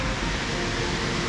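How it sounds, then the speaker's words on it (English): Small waterfall beside a swampy, wet mountain trail in northern Japan, a steady broadband rush of falling water, close and continuous with no voices. "But look at this little waterfall."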